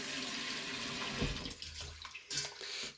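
Rice being rinsed in a pan under running tap water for sushi, a steady close splashing rush that breaks into shorter sloshing bursts as the grains are swirled.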